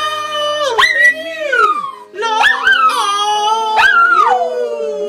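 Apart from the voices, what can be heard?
dogs howling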